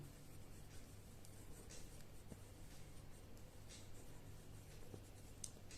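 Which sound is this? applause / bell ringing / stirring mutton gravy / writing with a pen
writing with a pen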